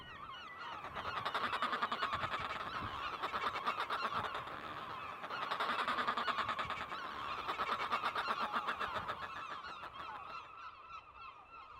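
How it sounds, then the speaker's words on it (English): Fulmars give a continuous cackling, chattering chorus on an island bird colony, moderately loud and rising and falling in waves with no talking. "Fulmars have a very unique sound."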